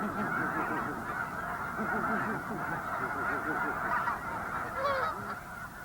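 Wrangell Island snow geese honk in a dense, continuous chorus of many overlapping calls, steady and fairly close, with no other sounds standing out.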